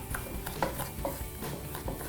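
A spoon clinks and scrapes against a dish while mulberries are stirred with pepper, salt and turmeric, soft irregular knocks and scrapes close by.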